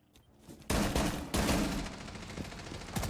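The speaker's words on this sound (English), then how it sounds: "gunshots coming out from the Maverick to try and fire back" Rapid gunfire in a tactical shooter video game during a competitive esports match, with dense bursts of shots in quick succession, loud and continuous with sharp onsets, and no voices heard.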